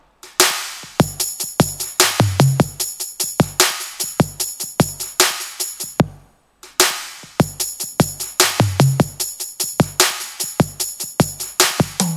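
A Roland 808 drum machine pattern of punchy electronic kicks, snappy hits and ticking hi-hats loops twice with a brief gap between passes.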